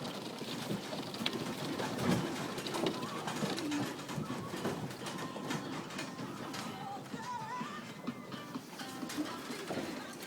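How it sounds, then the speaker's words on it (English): Young racing pigeons coo softly at an ETS trapping box, a faint, continuous murmur of bird calls with distant background noise. "That was me young birds trapping, 45 of them."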